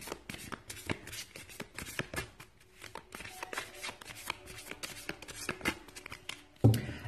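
A deck of cards is shuffled and handled for a daily card reading, with a steady run of quick papery riffles and flicks, close and fairly quiet, ending in a sharper thump.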